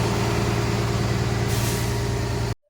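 Heavy loaded trucks standing at a mine at night, a loud steady low engine drone with tonal hum throughout, a brief hiss like an air brake midway, then abrupt silence.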